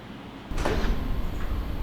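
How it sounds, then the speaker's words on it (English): A Jaguar F-Type sports car's doors unlock after a brief silence, giving a single abrupt mechanical clunk followed by a steady low hum from the car. "unlock the Jaguar doors"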